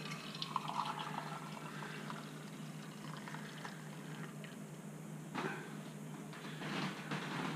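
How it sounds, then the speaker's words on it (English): Hot water pours and splashes steadily out of a Chemex coffee maker, a continuous soft rushing that stays fairly quiet, with no talking. "I'm going to dump the hot water."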